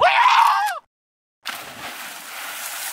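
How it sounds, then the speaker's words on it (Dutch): A person screams loudly and close for almost a second, cuts off into silence, then a noisy crowd-like wash of sound follows. "Goeie schreeuw."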